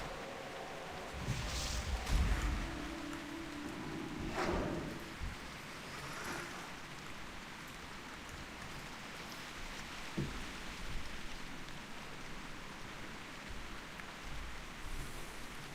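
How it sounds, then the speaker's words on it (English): Rain falls in World of Warcraft: The Burning Crusade as a constant soft hiss, with a few louder splashy bursts early on and no voices. "Okay, it's raining in here again"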